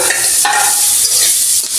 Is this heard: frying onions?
yes